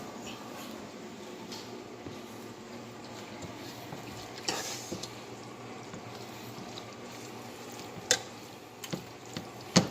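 A wok of farfalle pasta with sun-dried tomatoes being stirred, giving a soft, steady sizzle with a few light scrapes and clinks of the utensil near the end.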